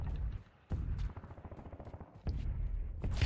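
Gunfire in Warzone, heavy and dense, with repeated sharp shots in close bursts. The fire breaks off briefly and then resumes, loud throughout.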